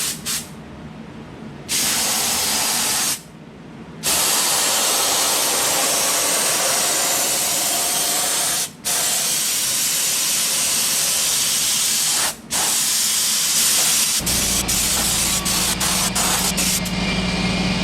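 Sealer is sprayed from a spray rig onto a wooden routed sign in loud, hissing bursts, a short one first and then a long steady stream broken by a few brief gaps, ending in a burst of clicks.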